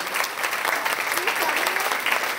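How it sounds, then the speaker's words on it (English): Crowd applause at a 2009 mayoral kickoff rally, a dense, steady wash of many hands clapping close by for the full stretch, with no pauses. "Let's give her a round of applause"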